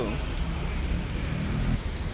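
Steady rain falls around a Tata Ace delivery truck, a dense, even patter with low rumbling background noise throughout.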